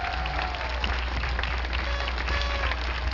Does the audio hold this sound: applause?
yes